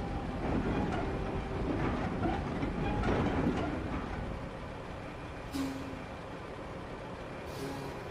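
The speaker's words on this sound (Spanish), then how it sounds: "Me encanta el ruido del freno." Truck air brakes in a truck simulator game hiss in two short bursts over a steady rumbling engine and rolling road noise, loud and close with no talking.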